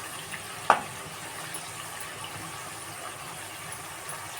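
Raw banana chips fry in oil over a low-medium gas flame, giving a steady, faint crackling hiss with a single brief clink early on, and no voices.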